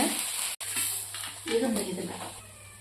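Talipattu flatbread frying in two spoons of oil on a pan, a constant crackling sizzle with a brief dropout, heard beneath a person talking.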